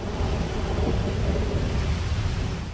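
Thunder rolls after lightning in the GTA 5 video game, a loud, deep, continuous rumble that stays heavy throughout, with rain hissing underneath and no pause.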